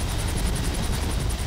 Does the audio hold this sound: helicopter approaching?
yes